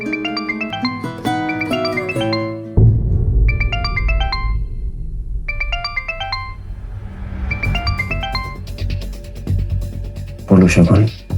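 A mobile phone plays a melodic ringtone in repeating bursts of bright tones with short gaps, then breaks off as a voice speaks near the end.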